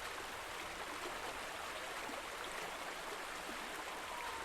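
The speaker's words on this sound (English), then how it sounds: "At times your character will walk through water. The water up ahead here you walk through." A character wading through water in Bioshock 2, a steady broadband rushing and splashing wash with no distinct steps, faint and continuous throughout.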